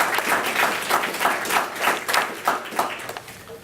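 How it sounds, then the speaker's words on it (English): A round of applause from an audience for the helpers who fought an addiction-related issue, steady dense clapping filling the whole stretch at moderate loudness with no voices over it. "So let's give them all a round of applause."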